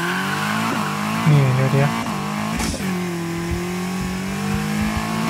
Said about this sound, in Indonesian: Dan gua bakal coba nih mesinnya.